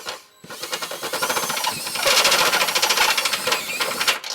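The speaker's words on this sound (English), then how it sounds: "we're going to use a step bit to just slightly enlarge it to allow our hardware to" A step drill bit enlarges a hole for trailer hitch hardware on a 2019 Subaru Impreza Hatchback, giving a loud, rattling, rhythmic grinding that starts abruptly, swells and keeps chattering close to the microphone.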